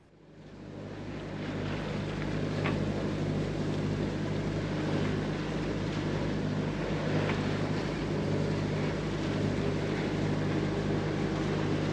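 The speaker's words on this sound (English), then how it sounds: "Should give you an idea of how much wind there is." Wind blowing across open water, a steady, loud broadband rush with a low rumble underneath that holds for the whole stretch with no voices.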